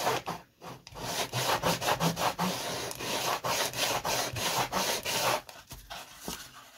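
Wood being sanded by hand on the top hatch of a Mannock model boat, rapid rhythmic rasping strokes close up with brief pauses, and no talking.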